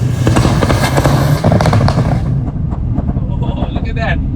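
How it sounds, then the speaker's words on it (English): A turbocharged Subaru WRX STI roars loudly on a race track with rapid crackling pops and bangs from the exhaust, then drops away into rumbling, with wind buffeting and a voice over it. "it's just popping and banging, and the car just trying to go"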